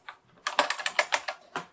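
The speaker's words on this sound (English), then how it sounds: "I apologize for my clicky keyboard." A clicky mechanical computer keyboard typed in a quick burst of sharp, close keystrokes, loud and crisp with no talking.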